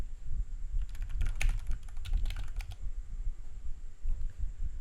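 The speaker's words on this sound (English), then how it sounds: "type in Google Docs" Typing on a computer keyboard, with a dense burst of quick keystrokes in the middle and quieter taps near the end, close by with no talking.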